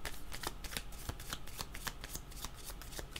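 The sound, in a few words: shuffling cards for a card reading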